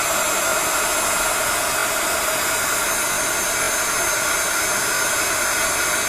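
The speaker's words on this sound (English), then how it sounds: "I got my heat gun, so I can go on ahead and dry this up" Heat gun blowing steadily and loudly to dry thickly applied mixed media paint, a continuous airy roar with no talking.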